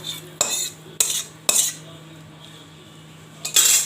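A metal spoon scrapes and scoops cooked morola fish chachari from a pan, four sharp clinking scrapes separated by pauses with a faint low hum beneath.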